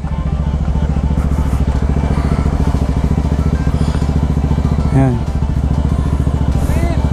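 Motorcycle engine putters at a steady, close rhythm as the rider pulls away in first gear on a mountain road, with a brief rising whine and people talking over it.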